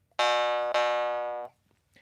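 Jaw harp sounding a bell-like ring tone from a draw start: two bright, sustained harmonic-rich strikes in quick succession, the second ringing on for about three-quarters of a second before cutting off, played alone.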